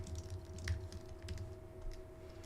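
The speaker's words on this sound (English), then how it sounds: "I'm gonna type in the name of the person." A name is typed on a computer keyboard, a quick run of soft, close key clicks over a faint steady electrical hum.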